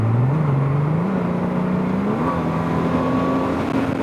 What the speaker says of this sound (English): I'll give it some gas and drop it down 3 gears and see.